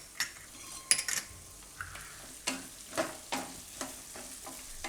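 Fresh turmeric being stirred in hot oil in a pan, with soft sizzling under intermittent scraping and clinking of a utensil against the cookware, close and moderately quiet.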